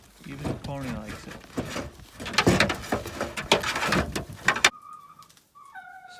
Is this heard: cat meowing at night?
no